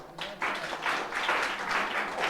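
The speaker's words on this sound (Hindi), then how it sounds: "तुम लोग ताली भी बजाया करो।" A group of students in a classroom claps together during a lesson, a brief burst of steady applause that carries on without talk.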